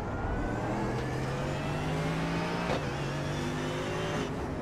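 Continuous high-revving race car engine from a sim racing game at Brands Hatch, a steady whining tone with a brief shift blip midway, loud and unbroken with no talk.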